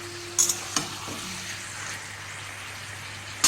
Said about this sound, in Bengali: এবার আলু, গাজর, পেঁয়াজের সঙ্গে মাংসটা ভালো করে মিশিয়ে নেব